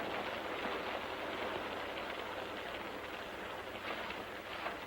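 Steady rain pours outside a barn in a 1946 Western, a soft, even hiss of falling water that carries on without a break, moderately quiet and heard alone with no talk.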